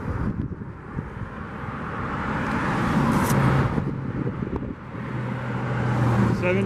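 An HPI Flux 3 Porsche 1/10 scale brushless electric RC car makes a speed run in Granada Hills, a steady whirring roar swelling and fading past the microphone with heavy wind noise.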